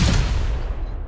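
Dense, continuous gunfire from a P90 in the BGMI mobile battle game, a loud rattling burst filling the whole moment with no talk.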